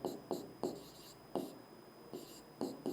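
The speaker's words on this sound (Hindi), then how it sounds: "मैं एक सेकंड लिखता हूँ" Writing on a board during a geometry lesson on Heron's formula: short scratchy strokes come in quick, uneven bursts, faint and close in a quiet room.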